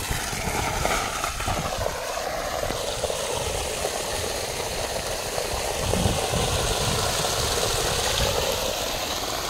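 A CRI solar-powered water pump with a 39-metre head runs with a steady, loud mechanical hum and a broad rushing wash, unbroken for the whole stretch with no voices.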